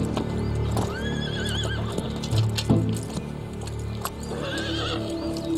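A lame horse in the woods lets out a shrill whinny, its neigh rising and falling over scattered hoof clip-clops and rustling, fairly close by.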